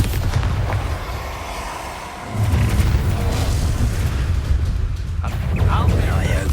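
A Bombarda spell blast goes off in the video game Hogwarts Legacy, a deep rumbling boom that swells after a short lull and holds under dense game noise.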